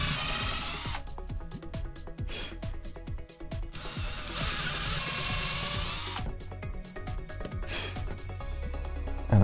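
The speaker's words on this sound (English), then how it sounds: "I drilled the holes." Power drill boring holes in outdoor pine wood, with several bursts of whirring and rough grinding close by, separated by brief pauses.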